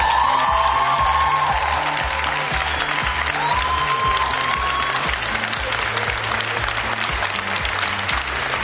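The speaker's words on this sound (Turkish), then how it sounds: "En özel alkışları Meral Çetinkaya alıyor elbette" A fashion show runway audience applauds and cheers while a thumping music beat plays underneath, continuous clapping throughout at steady volume.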